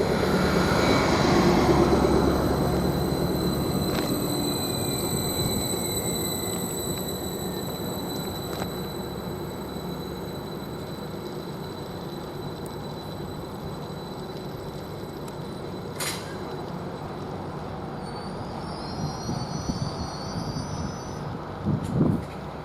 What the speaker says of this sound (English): Now we are getting the Great Anglia service, which is the 12:32 from Peterborough towards Ipswich